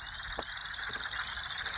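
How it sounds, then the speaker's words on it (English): Chorus frogs call outdoors in spring, a steady distant trilling chorus, like a finger run down a comb, with no voices. "You can hear the sound of the chorus frog as well here."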